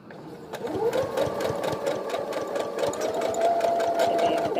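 A sewing machine runs steadily, backstitching back and forth over elastic on a fabric face mask, a close, continuous mechanical whir with rapid needle ticking and a brief faint voice.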